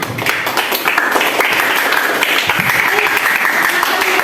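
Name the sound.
applause for group 1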